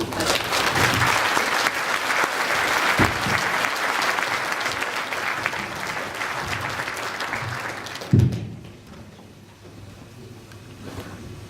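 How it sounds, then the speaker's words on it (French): Sustained audience applause at a New Year's greetings gathering in Marcigny, a dense, steady wash of many hands clapping that fades out after about eight seconds, followed by quiet room tone. "Je crois qu'on peut applaudir."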